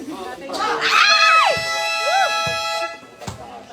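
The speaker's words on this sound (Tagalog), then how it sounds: "Sigaw." Crowd at a basketball game erupts in loud, high-pitched shouting and screaming for a couple of seconds, with a sustained horn-like tone underneath, then dies down to scattered voices.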